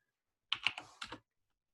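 Several quick keystrokes on a computer keyboard while entering a number into a command-line program, a short burst of clicks alone in a quiet room.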